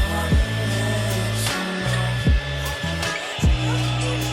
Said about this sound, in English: I'm going to vacuum out my car